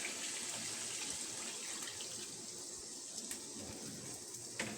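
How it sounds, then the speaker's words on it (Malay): Plain water poured into a cooking pot with beef and bones for a quick soup, a steady broadband splashing rush running continuously and fairly close, with no talk over it. "Kita akan masukkan air biasa je."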